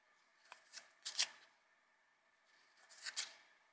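Small BTS micro photo cards are riffled and handled close up in a quiet room, giving soft papery flutters in two short bursts separated by a pause.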